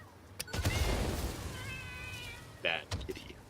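A pet cat meowing indoors, a few drawn-out wavering cries and a short sharp yowl, faint-to-moderate and mixed with background noise and people speaking nearby.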